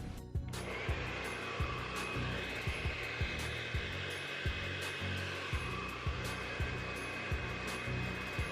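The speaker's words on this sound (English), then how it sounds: "I'm gonna use my blow dry to do that" A blow dryer fitted with a comb attachment runs loud and steady, drying glue on a wig, with faint periodic clicks repeating about every half second throughout.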